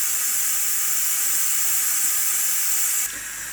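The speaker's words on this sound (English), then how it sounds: "our beef is done in the pressure cooker, so I have to release the pressure" A pressure cooker vents steam after cooking beef, a loud, steady, close hiss held for about three seconds before it drops sharply to a quieter hiss.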